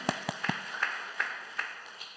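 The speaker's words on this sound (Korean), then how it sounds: "우리 중고등학교 선생님에게 큰 박수 한번 주세요." A church congregation claps for its middle and high school teachers. Scattered, faint claps come a few at a time rather than as full applause, and fade toward the end.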